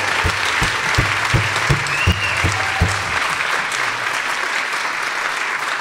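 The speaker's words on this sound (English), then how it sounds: "Let's give a round of applause to the panel." Theater audience applause for a panel at the Cabot Theater, a full wash of clapping with a few louder rhythmic claps and whoops early on, then settling into steady applause.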